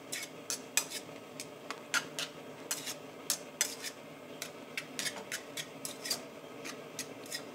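Carbonara pasta with eggs being tossed in a pan, quiet rhythmic scraping and metallic clinks repeating in quick bursts, close and fairly faint.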